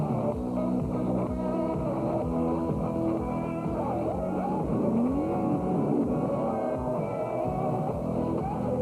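IROC race cars roar around Daytona in the 1987 race, with engines droning and revving loudly. Cars sweep past one after another in overlapping waves of engine noise.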